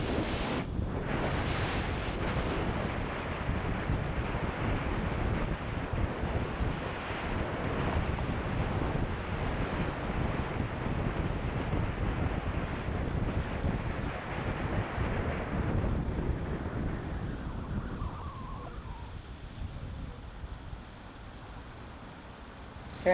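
A Super Soco TC Max electric motorcycle runs at speed over a bridge on a three-lane dual carriageway, heard mostly as heavy, steady wind rush on the microphone that eases near the end.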